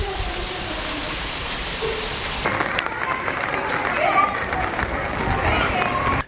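Heavy rain pouring in Trincomalee, a steady dense hiss of falling water that fills the whole scene and continues without pause, with a sudden change in tone partway through as the recording cuts to another spot.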